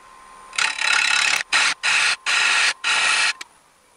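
Wood on a lathe turning at about 1,000 RPM is cut with a 5/8 inch bowl gouge, giving close rasping bursts in four or five separate passes with short pauses between them.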